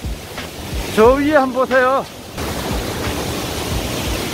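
Mujoochae Waterfall in Gapyeong, a large waterfall, pours with a steady, loud rushing roar, while a person speaks briefly over it.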